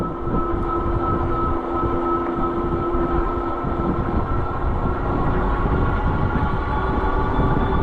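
Puckipuppy Samoyed mostly aluminum electric bike under throttle climbing a hill, a steady motor hum under strong rushing wind and road rumble throughout, with no talk.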